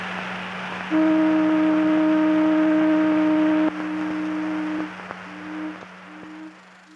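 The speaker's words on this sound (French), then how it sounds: "La sirène du bateau." A ship's foghorn blasts a long, loud steady tone, followed by a few shorter hoots over a low background drone.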